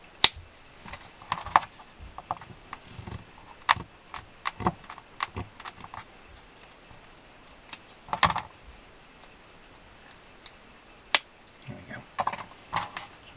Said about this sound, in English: Cut some beeswax.